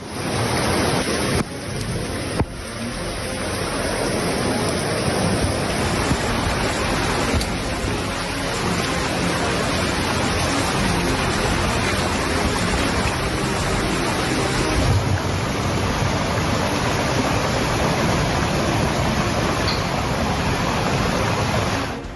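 Floodwater pours through submerged city streets where cars float, a dense, continuous roar of rushing water that stays loud and steady throughout, with no voices.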